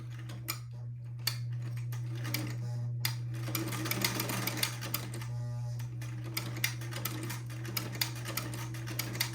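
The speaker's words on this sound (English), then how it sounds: "Now I like to use this vintage buttonholer because since I'm making buttonholes for 1/4-inch buttons" Sewing machine fitted with a vintage buttonholer stitching a buttonhole for a quarter-inch button, a steady close mechanical whir with a constant hum and rapid clicking and ticking from the attachment.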